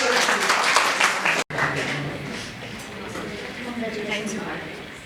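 Audience applause for a junior English category prize winner at a school Swami Vivekananda Jayanti event, a brief cut partway through, fading somewhat as a voice speaks over it.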